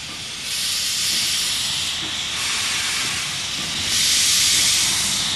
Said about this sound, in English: The steam locomotive looks fascinating, it sounds fascinating. It breathes out a lot of fascinating things also.